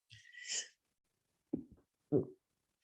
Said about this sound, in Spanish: me vino un estornudo